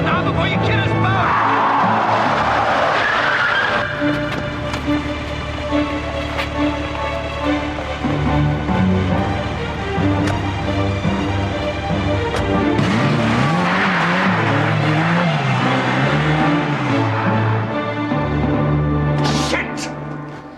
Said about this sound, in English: Stop the car now before you kill us both!